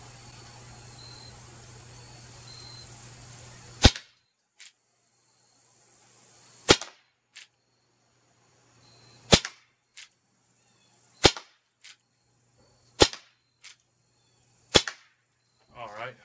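Colt Peacemaker SAA air pistol firing pellets: sharp, close cracks at irregular intervals, each followed by a fainter tick, with near silence between shots.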